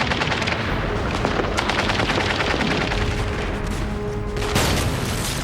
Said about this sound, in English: There was a fierce firefight.